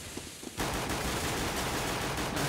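Dense, loud gunfire in a Counter-Strike match on Inferno, with rapid Glock pistol shots over a busy battle that erupts suddenly after a quiet opening and stays near and continuous.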